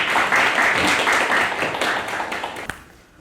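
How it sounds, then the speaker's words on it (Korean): An audience in a classroom lecture gives a guest lecturer a burst of dense, close applause that tapers off near the end. "박수로."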